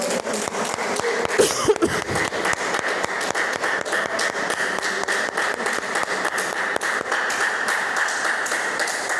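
A church congregation applauds during a Portuguese-language sermon, with sustained, dense clapping from many hands filling the room at moderate loudness and a few louder thumps near the start.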